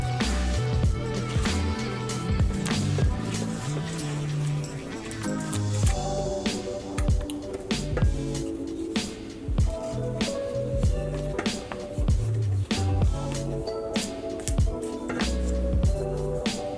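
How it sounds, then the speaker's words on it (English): Pecans are folded into rum cake batter with repeated soft, wet squishing and plopping strokes, close and steady, over background music. "Now you're going to fold those pecans into the batter."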